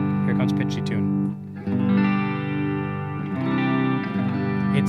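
Electric guitar, a Line 6 Shuriken Variax SR250, strums a G chord through a pitch detune effect, giving a shimmering, chorus-like ring that sustains, dips briefly, then is struck again and rings on.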